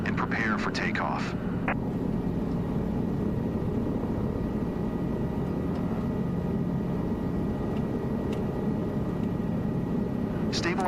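Steady low engine drone of an aircraft waiting before takeoff in Microsoft Flight Simulator 2024, a continuous even rumble throughout with a voice talking over it.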